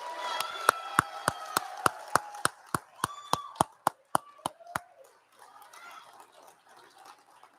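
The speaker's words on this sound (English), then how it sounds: "Let's give Class 25 a round of applause" Audience at a fire academy graduation ceremony applauding Class 25, heard as a series of about fifteen sharp, evenly spaced claps that fade out after about five seconds over quiet room noise.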